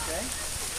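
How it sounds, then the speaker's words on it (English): Steady rain patters on a tent and tarp at a campsite, a dense hiss of drops heard briefly while a voice talks over it. "it's already raining"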